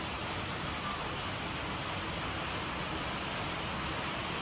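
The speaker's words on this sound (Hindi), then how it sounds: "जब भी बारिश होती है तो ये शोर ज़रूर मचता है हमारे घर में।" Rain heard from inside a house, a dense, even hiss that holds at a constant level throughout with no voices or other distinct sounds.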